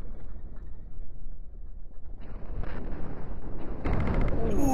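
Cannon shots hit and destroy a ship reactor in the space game Cosmoteer: low rumbling impacts swell into a louder, bright burst of explosion noise near the end.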